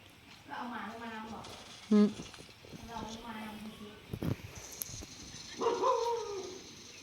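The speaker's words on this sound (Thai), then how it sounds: "เห่าใหญ่เลยนะ" A dog barks a few times at a rural farm near a chili garden, the barks fairly loud amid quiet background talk and outdoor noise.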